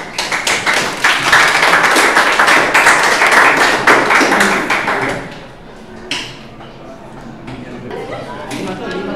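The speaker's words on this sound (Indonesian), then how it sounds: "Tepuk tangan buat temannya." A vocational high school class applauds a classmate during a coding lesson, brisk clapping from a small group for about five seconds before fading, with a teacher's voice following.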